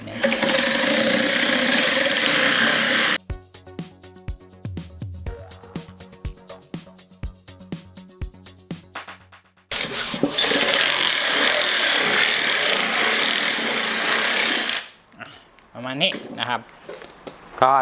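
A RECIPROTOOLS reciprocating saw fitted with a sanding attachment (RCT-5PC-MM set) sands wood in loud, close bursts of harsh buzzing. Someone talks in the quieter gap between the two runs.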